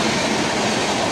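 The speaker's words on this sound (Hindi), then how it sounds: "तो यहाँ पे आ गई थी हमारी ट्रेन।" A local train near Patna rumbles into a station on a cold, foggy day, a dense, loud and steady roar of rolling wheels and carriages.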